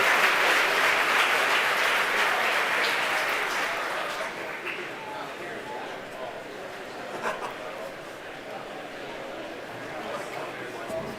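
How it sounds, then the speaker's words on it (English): A crowd at SpaceX headquarters cheers and applauds during a Starlink satellite launch. The applause is loud at first and then fades to a lighter, scattered clapping and murmur. "The crowd here at headquarters cheering."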